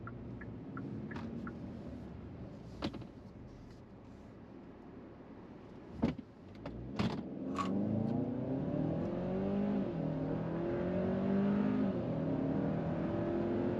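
A 2023 Hyundai Santa Cruz with a 2.5 liter turbocharged engine accelerates from 0 to 60 in sport mode, its engine note rising through gears with a few sharp clunks, moderately loud and steady.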